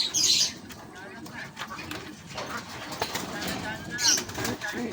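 Two short, high bird calls, one at the start and another near the end, over a background of people talking.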